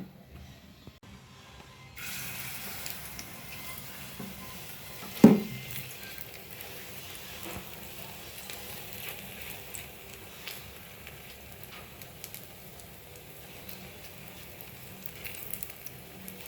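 Methi kudla, fenugreek dumplings, fry in hot oil with a soft steady sizzle that starts suddenly and runs on. A single thump sounds early, then faint crackles and pops continue near and quiet.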